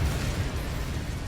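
A Confringo spell blast from Hogwarts Legacy: a loud, steady, low rumbling burst that holds across the moment with no clear attack or tail, and no voices.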